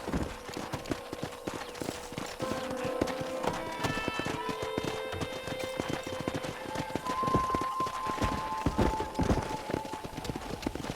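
Horse hooves clip-clop in a quick, steady rhythm at close range in the video game Red Dead Redemption, with tonal background music and sparse game sounds layered over them.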